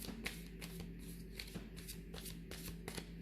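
Tarot-style message cards being shuffled by hand, a steady run of soft papery riffles and flicks, close and fairly quiet, with no talking.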